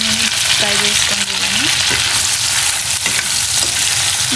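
Prawns frying in a pan for a masala curry, a loud continuous sizzle close by with occasional stirring scrapes and brief tonal clinks, no voices.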